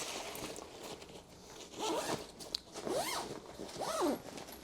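An Almond Oak personal-item travel bag being zipped shut: three quick, rising zipper strokes spaced about a second apart, close and clear over quiet room tone.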